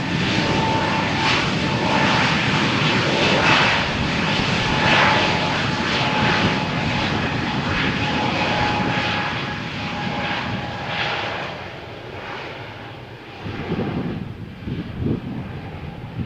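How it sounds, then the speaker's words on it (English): A Wizz Air jet roars down the runway on takeoff at Malaga Airport on a stormy morning, its broad engine noise loud and steady at first, then easing and fading as it climbs away. "Wizz Air flight to Budapest is cleared for takeoff"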